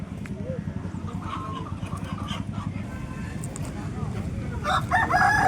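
Roosters and hens at a busy poultry market cluck and crow, with a loud, bright crow rising near the end over a steady low rumble of background activity.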